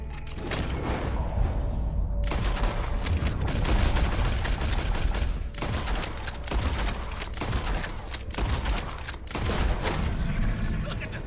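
Dense gunfire in the video game Red Dead Redemption 2, in a bayou setting. Loud, rapid shots and booms run almost continuously, with brief dips between volleys.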